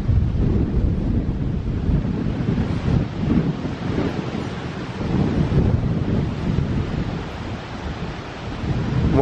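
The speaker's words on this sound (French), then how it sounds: "Oh là là, c'est rafale." Strong storm gusts from Storm Miguel buffet the microphone outdoors beside a low-cost garden greenhouse, a loud continuous roaring rush of wind surging and easing in waves, with no voices.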